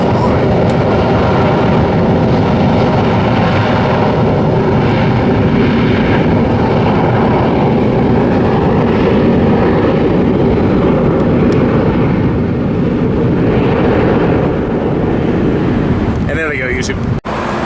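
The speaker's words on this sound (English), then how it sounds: "another plane inbound to San Diego" Airliner flying inbound to San Diego, a loud sustained roar of jet engine and rushing air that holds steady through most of the stretch with wind buffeting, close and overhead, cutting off abruptly near the end.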